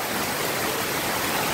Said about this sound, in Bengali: আর বৃষ্টি ভালো করেই হচ্ছে